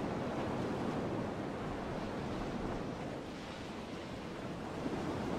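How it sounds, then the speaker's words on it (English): In the Grandia II video game, water pours off the edge of the Granacliffs. It makes a steady, broad, rushing roar like distant surf or wind, even and unbroken throughout. "All the water flowing off the edge."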